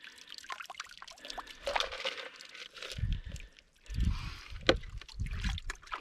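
Clean water is poured into a container of live yabbies, with several short, uneven splashing pours and trickles close by, separated by brief pauses.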